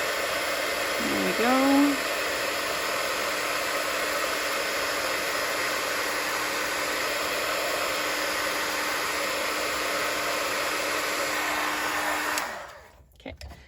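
A heat embossing tool blows a steady, loud broadband whoosh as it melts embossing powder on a paper card, running continuously for about twelve seconds before cutting off, with a short spoken remark near the start.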